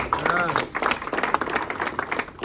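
Audience applause for the Special Economic Zones Authority at a Kenyan diaspora investment gathering, a dense wash of clapping sustained across the whole stretch with crowd voices and cheering mixed in.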